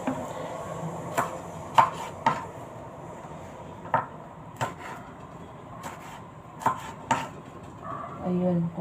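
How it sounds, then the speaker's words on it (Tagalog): Sharp knife chops strike a cutting board while cutting garlic at irregular intervals, close by, with quiet kitchen background noise and a brief clatter at the end. "Mamaya maghiwa na lang ako ng bawang. Maghihiwa na ako."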